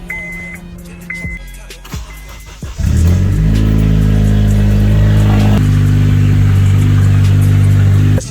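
A Honda Accord driving on a snowy road, its engine rising to a loud steady drone after a few quieter thumps and rattles at the start, close and continuous.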